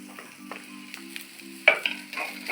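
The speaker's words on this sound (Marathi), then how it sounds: "थोडा लसूण टाकूयात." Garlic is dropped into tadka oil with onion for dahi tadka. A soft, faint sizzle with light stirring is followed by a sudden louder crackle as the garlic hits the oil, all over a low background hum.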